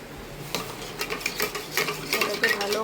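Spices and water being stirred in a pan for chicken curry, giving soft, irregular scraping and wet swishing strokes with a faint sizzle, close and moderately quiet, no talk.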